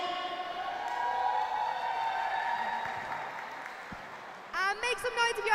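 Crowd at a mixed roller derby bout between the Unicorns and the Merfolk, a sustained roar of cheering and shouting from the stands that swells steadily, with a few sharper shouts near the end.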